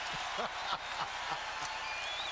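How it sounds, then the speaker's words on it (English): Arena crowd at a Magic vs Bulls NBA game roaring and applauding in a standing ovation, a dense, steady wash of noise throughout with a faint voice rising above it now and then. "Crowd just loving it. Oh, man. Kobe who? A standing ovation as the Bulls go into their offensive set."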